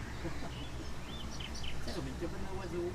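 Several faint chirps and tweets from a birdhouse on a theme park ride play over rumbling ride noise, and voices talk in the background.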